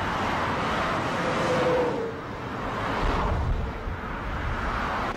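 Steady broadband roar of highway traffic, vehicles passing continuously with swelling and fading whooshes, fairly loud and even, no voices.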